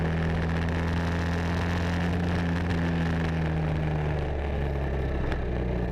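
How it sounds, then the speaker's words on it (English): Loud, steady engine drone from a race car with its exhaust fallen off, a raw, low rumble with sustained tones that shift and drop near the end, with no talking over it. "And that is a bad sound. The exhaust has fallen off again."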